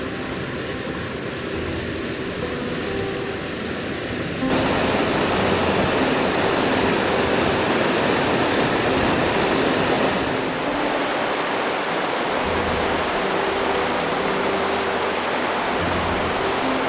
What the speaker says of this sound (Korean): 반대편에서 폭포를 바라본다.